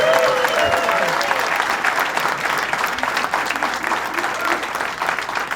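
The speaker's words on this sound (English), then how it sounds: "Troy, let's give him a round of applause, and the whole team." Sustained applause from a large crowd at the closing day of the 2016 Great New York State Fair, steady and loud throughout, with some voices mixed into the clapping.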